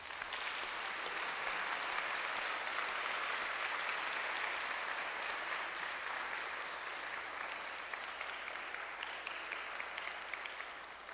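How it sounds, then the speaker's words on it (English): Applause from an audience honoring a student at a music teacher's event, a dense steady clatter of many hands clapping continuously for about eleven seconds, tapering slightly at the end. "Ram Mallappa, give him a big round of applause."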